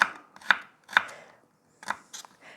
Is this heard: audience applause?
no